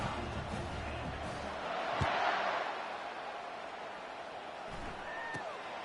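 A home stadium crowd roars in the NCAA 25 college football video game, a broad wash of cheering that swells and fades over a few seconds, with a couple of sharp thuds.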